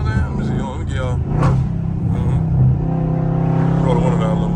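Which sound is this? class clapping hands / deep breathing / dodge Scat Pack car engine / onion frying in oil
dodge Scat Pack car engine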